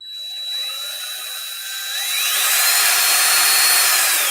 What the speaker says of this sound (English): you can drill holes in your yard real fast with this